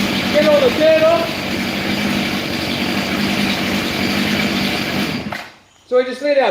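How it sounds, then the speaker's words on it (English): A chainsaw idles steadily while cooling down after cutting dry gum firewood, a constant droning engine hum that runs for several seconds before cutting out abruptly, followed by a moment of quiet and then someone speaking. "So we just let our chainsaw cool down for a bit there. Get all this, while it's idling that is."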